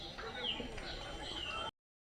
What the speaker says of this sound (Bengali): বিভিন্ন প্রজাতি পশু পাখিদের ডাক